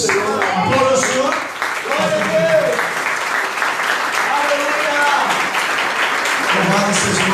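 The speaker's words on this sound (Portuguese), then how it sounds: "Aplauda o Senhor." A church congregation applauds during a Portuguese-language worship service, a dense wash of clapping filling the room for several seconds while voices carry over it.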